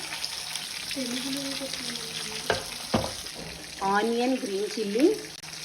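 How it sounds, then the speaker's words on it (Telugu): Onion, garlic and green chilli frying in a pan for Andhra-style pappu charu, a steady soft sizzle running under a voice, with a couple of sharp utensil knocks partway through. "ఇటు సైడ్ ఫ్రై అవుతున్న దాంట్లో ఆనియన్, గార్లిక్, గ్రీన్ చిల్లీ"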